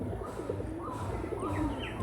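A pigeon, a tournament-bred Andhra bird, coos softly and repeatedly in close range, low throaty pulses over a faint background with scattered chirps.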